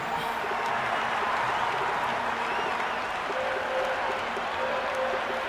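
A video game cricket crowd roars and applauds in a dense, continuous wash of noise, with a faint commentator voice underneath.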